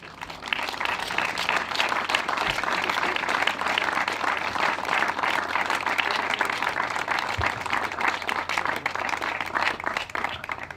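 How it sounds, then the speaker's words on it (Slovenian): A gathering crowd applauds cyclist Tadej Pogačar at a homecoming welcome in Komenda, with steady, dense clapping filling the full length at an even level and a faint murmur of voices underneath. "In jaz mislim, da zdaj lahko z enim pravim aplavzom nagradimo Tadeja,"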